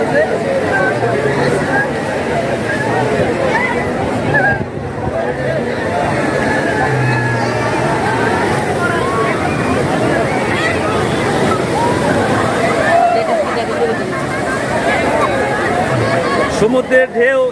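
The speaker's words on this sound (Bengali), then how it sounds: "সমুদ্রের ঢেউ" Sea waves wash and break continuously on the shore at Cox's Bazar beach, a loud, steady roar mixed with the chatter of a large crowd of visitors nearby.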